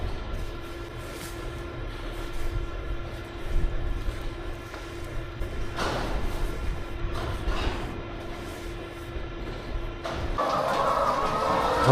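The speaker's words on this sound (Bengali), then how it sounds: "মুরগিগুলো প্রচুর চিল্লাইতেছে।" Chickens in a large poultry farm housing about a hundred thousand birds give a constant mass of clucking and squawking, with a steady machinery hum running underneath throughout.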